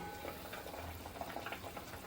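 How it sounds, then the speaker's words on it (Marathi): Dry Bombay duck and potato curry simmers in an open pot, giving a quiet, steady bubbling with small irregular pops and soft liquid patter at close range. "कालवण कसं चांगलं उकळते"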